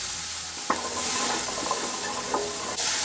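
Vegetables sizzle steadily in a pan over very high heat, browning and caramelizing, with occasional clicks and scrapes of stirring over the constant frying hiss.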